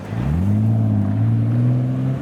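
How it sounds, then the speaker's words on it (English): A Mark IV Toyota Supra making over 800 horsepower revs at a car meet, its deep engine note climbing and then holding a steady, loud drone for a couple of seconds with no voices over it. "Ah, the Supra's revving."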